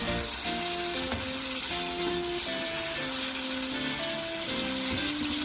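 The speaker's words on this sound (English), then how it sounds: "Once I finish frying all the chicken pieces" Chicken pieces deep frying in hot oil for sesame chicken, a steady dense sizzle and crackle running continuously and fairly loud, with faint tonal music underneath and no voices.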